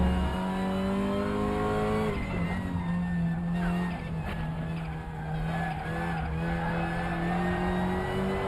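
A race car in the sim racing game RaceRoom accelerates hard, its engine climbing and dropping through gear changes with repeated rising whines, tyre squeal and skidding mixed in, loud and continuous.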